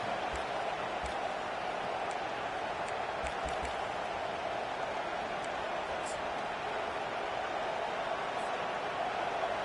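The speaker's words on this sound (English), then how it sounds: "This crowd bringing the energy and noise early." A stadium crowd at a football game roars as a dense, continuous wash of noise, loud and unbroken throughout, with a commentator's voice running over it.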